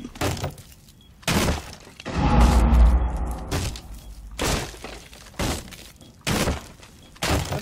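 Something breaking in front of the basement in Rainbow Six Siege, a loud shattering crash with a rumbling tail, set between short bursts of players talking.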